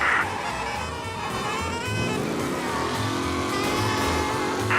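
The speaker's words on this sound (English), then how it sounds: "Officers reporting a race car driving at speed through the city." A race car engine from the video game Mafia: Definitive Edition roars at high speed through city streets, its pitch climbing and shifting as it revs through gears, loud and continuous throughout.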